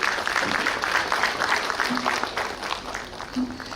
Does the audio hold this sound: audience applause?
yes